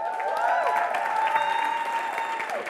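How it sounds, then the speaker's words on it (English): An audience applauds the men present at a JMMB Elevate event, a sustained crowd clapping with a few voices and cheers mixed in throughout. "I just want to give a round of applause to the men that are here"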